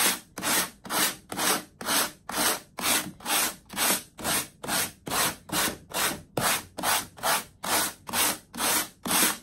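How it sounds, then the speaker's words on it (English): Hand sanding a dried, rock-hard raised stencil with sandpaper wrapped around it: steady rhythmic back-and-forth rasping strokes, about two per second, close and fairly loud, no talking. "just wrapping it around and just giving it a sand down like this"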